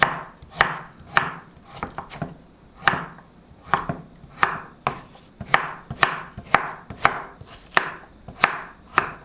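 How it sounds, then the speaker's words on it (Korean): Carrots being finely chopped on a cutting board for carrot apple juice, a close, loud series of crisp knife strikes in a fairly steady rhythm with no talking. "잘 갈리게끔 잘게 썰어 줄게요"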